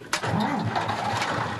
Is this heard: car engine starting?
yes